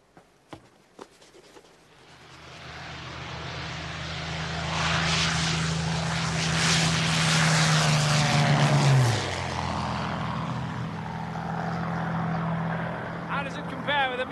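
A propeller aircraft, compared with a Messerschmitt 109, drones in from quiet, swells to a loud roar as it passes overhead, then its pitch drops and it fades, with voices around it.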